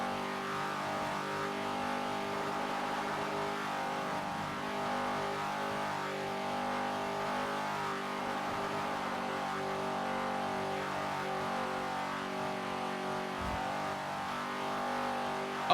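Bullet sports car engine in GTA V on a NoPixel roleplay server, a steady, sustained droning roar held at high revs, moderately loud throughout with no talk over it.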